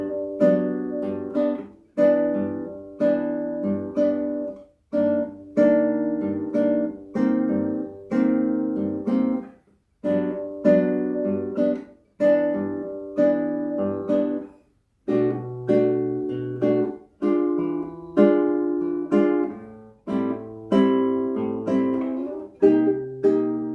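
Guitar slowly strumming jazzy bossa-style chords, each chord ringing out and decaying in an even, unhurried rhythm, close and clear with no talking.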